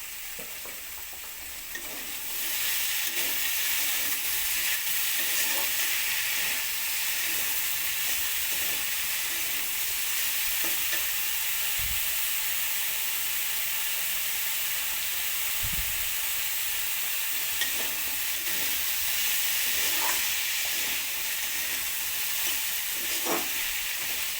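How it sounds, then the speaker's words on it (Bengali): Potato and pumpkin pieces fry in a pan with a continuous close sizzle that holds steady for a long stretch. Faint stirring clicks and soft knocks sound now and then, with no voices. "এই সময়ের মধ্যে দিয়ে দেবো কেটে রাখা কুমড়োটা"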